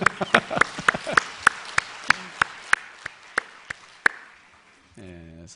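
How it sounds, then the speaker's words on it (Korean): A church revival crowd gives a scattered round of applause for the pastor's wife, with distinct, evenly spaced claps that fade out before a voice begins at the end. "사모님, 사모님 박수하겠습니다"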